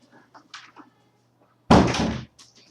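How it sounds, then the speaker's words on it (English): A door swings shut with a single loud, close thump and a short rattle, preceded by soft faint shuffling in a quiet room. "Let me close the door 1 second."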